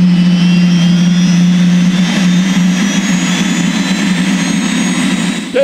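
The gas turbine engine of a 1968 Howmet TX race car starts and spools up, a loud steady turbine whine with a strong low drone and rising high tones, close and continuous.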